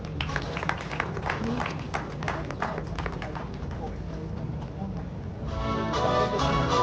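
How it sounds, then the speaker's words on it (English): An audience applauds the 28th GJA PAV ANSA Journalist of the Year at the Ghana Journalists Association awards: a steady crackle of many hands clapping in a hall, swelling louder toward the end, with a voice speaking over it. "Put your hands together, ladies and gentlemen."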